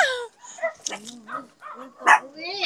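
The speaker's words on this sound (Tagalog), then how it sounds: "grabe yung mga dog nandun sa loob" Several dogs bark, yip and whimper inside a crowded home, close and fairly loud, mixed in with people talking over them.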